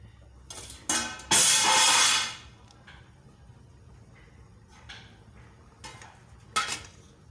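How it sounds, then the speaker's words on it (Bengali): A metal lid clatters onto a pot of simmering rohu fish curry with green banana and potato, followed by a long hissing sizzle that fades, then faint bubbling with a few scattered clinks of utensils. "আবারও কিছুক্ষণের জন্য আমি ঢাকা দিয়ে ফুটিয়ে নেব ঝোলটা ভালো করে।"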